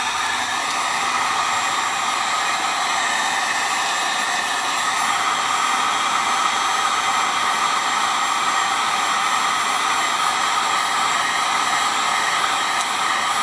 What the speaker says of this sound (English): Let's go ahead and see what we can do with the heat gun.